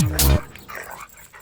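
A single loud, close dog bark or yelp, sharp and brief, followed by quieter room sound; the dog had just been given commands to search and catch.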